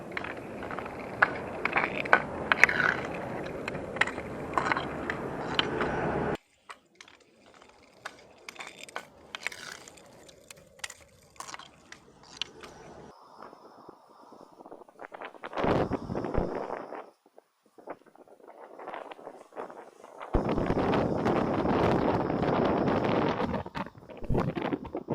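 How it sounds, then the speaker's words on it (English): Handling noise from gripping and turning an SJCam SJ10 Pro action camera in hand: close, loud rubbing, scraping and crinkling bursts with scattered knocks, separated by quieter stretches, with no talking. "as I turn it around in my hand, I'm just grabbing the camera in different ways"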